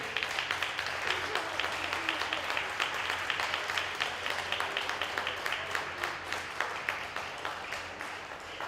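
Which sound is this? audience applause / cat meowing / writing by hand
audience applause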